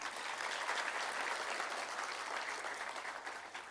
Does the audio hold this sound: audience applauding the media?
yes